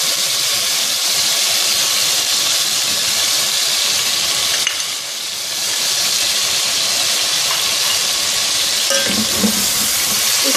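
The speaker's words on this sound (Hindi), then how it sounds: "चिकन को हम इसमें थोड़ा सा गोल्डन फ्राई करेंगे।" Chicken pieces with chilli and tomato fry toward golden in a pot for Pakistani-style chicken pulao, giving a loud, continuous sizzle and hiss close by with brief stirring clatter near the end.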